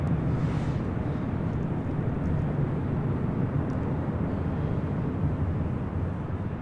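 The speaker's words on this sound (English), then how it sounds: "This is the ANA Dreamliner. It's Flight 106 coming in from Tokyo, Haneda." An ANA Boeing Dreamliner airliner on landing approach at LAX, heard as a steady broadband jet roar that stays constant and fairly loud across the whole stretch without any voices.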